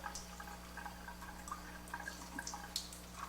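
Water runs at a gentle, easy flow from a Jupiter Melody JP104 water ionizer, a steady trickle with light dripping and splashing over a constant low machine hum.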